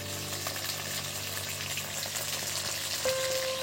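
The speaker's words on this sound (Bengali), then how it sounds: "মাছগুলো ভাজা হয়ে গেছে" Pieces of chitol fish fry in hot oil in a pan with a steady, dense sizzle that runs throughout, close and moderately quiet, with a faint tone near the end.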